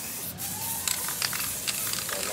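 An aerosol can sprays green paint onto a plastic cabinet in short hissing bursts over a steady background hiss, close and moderately loud.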